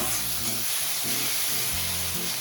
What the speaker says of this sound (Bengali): ভালোভাবে একটু কষিয়ে নিতে হবে, যাতে টমেটোগুলো সব ভালোভাবে ঘেটে যায়